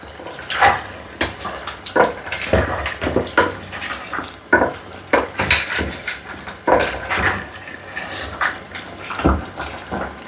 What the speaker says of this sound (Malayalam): നല്ലവണ്ണം ഒന്ന് ഇളക്കി കൊടുക്കണേ